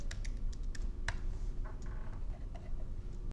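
Typing on a computer keyboard while editing text in Adobe InDesign, a short run of quiet, close key taps and a few backspace presses, spaced unevenly over a low steady hum, with no talking.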